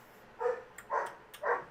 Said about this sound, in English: your dog is barking up a storm